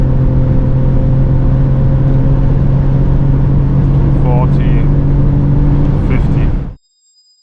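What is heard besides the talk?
2025 Mercedes AMG GLE53 Coupe hybrid engine driving on Autobahn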